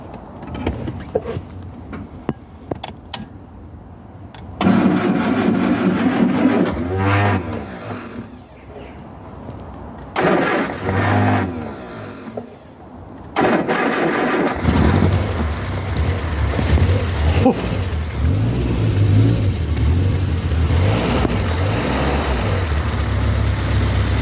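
An engine freshly repaired after a head gasket job cranks and fires, then idles and revs in rising bursts with a deep rumble, close and loud, with pauses and some noise between runs.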